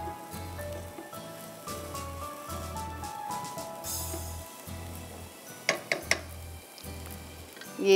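Onions sautéing in a pan give a steady sizzle and fry with a few sharp clinks of a utensil against the pan toward the end, close and moderately loud, with no voices.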